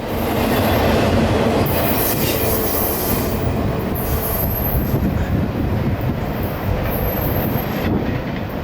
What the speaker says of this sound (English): we see our second to last train round the curve